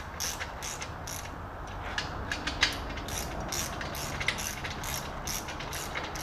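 A ratchet wrench clicks steadily while parts are torqued on a BMW M10 engine bottom end during assembly, a regular series of close, fairly quiet ratcheting ticks.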